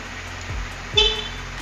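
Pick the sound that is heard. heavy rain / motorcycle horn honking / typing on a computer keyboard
motorcycle horn honking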